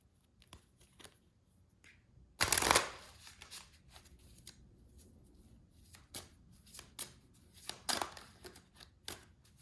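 Oracle card decks being shuffled by hand, close and crisp, with one loud riffling burst followed by a series of lighter taps, flicks and card snaps.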